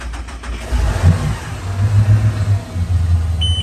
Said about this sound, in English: So the boat's not running right now, so I'll fire it up.